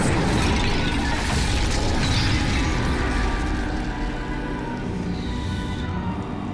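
The Incendio fire spell in Hogwarts Legacy sets off a loud, dense blast that roars and crackles continuously and then slowly fades, with no one talking.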